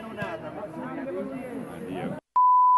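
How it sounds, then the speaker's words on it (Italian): A single sharp electronic beep tone, used to censor a word, cuts in loud and steady right after a voice talking over crowd chatter. "Sorvoliamo sul bip"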